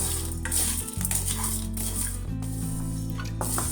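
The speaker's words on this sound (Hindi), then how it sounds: "लगातार चलाते हुए मैंने रोस्ट कर दी हूँ और अभी ये थोड़ा सा और रोस्ट होंगे।" Biryani spices are dry-roasted over a low flame with constant stirring, making a soft, continuous rustle and scrape over a steady low background hum.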